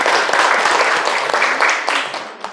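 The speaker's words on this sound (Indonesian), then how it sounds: "tepuk tangan dulu untuk kita semua" A classroom full of people clapping together, loud and sustained, tapering off slightly at the end.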